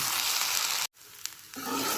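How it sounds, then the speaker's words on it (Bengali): Rice sizzles loudly as it fries in a pan while being stirred. The sizzle cuts out briefly, then returns just as strong. "এখন এটাকে নেড়ে নেড়ে ভাজবো"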